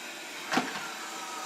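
A Proscenic 820S robot vacuum cleaner runs under a sofa, giving off a steady, moderate motor whir with one brief louder swell as it works.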